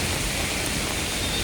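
Heavy rain from Typhoon Enteng pours down in a dense, steady hiss, a continuous wash of falling water with no pauses or voices.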